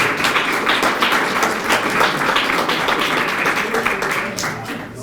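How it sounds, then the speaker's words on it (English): An audience at a university team challenge competition claps steadily throughout, a dense, moderately loud patter of many hands. "So a big round of applause to all the teams."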